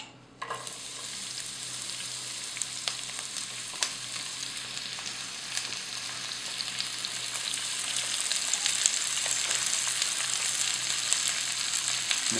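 Onion sizzles and crackles in hot oil, a close, steady frying hiss with scattered pops that rises gradually in loudness, with no talk.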